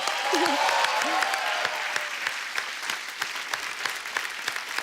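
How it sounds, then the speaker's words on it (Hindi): A TV comedy show audience applauding steadily for several seconds, dense clapping that holds at an even level before thinning slightly toward the end. "तालियां।"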